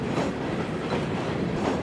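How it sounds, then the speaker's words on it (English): Florida East Coast yard job hauling an empty cut of rock hoppers, including new 19,000-series Duramax hoppers, rumbling past with a steady rolling roar and faint rhythmic wheel clatter, no voices. "catching the 3 p.m. yard job pulling an empty cut of FEC rock hoppers"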